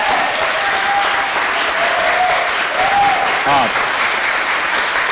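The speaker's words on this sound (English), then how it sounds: "clap our hands for each other, please" A hackathon audience at the final presentations claps for each other in a steady, dense round of applause, with a voice briefly audible over the clapping.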